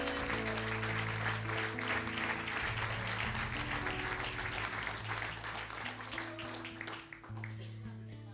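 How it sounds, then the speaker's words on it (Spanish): Church congregation applauding at a Spanish-language service, sustained clapping over steady organ or keyboard chords that continues for several seconds before thinning toward the end. "Dele un gran aplauso al Señor."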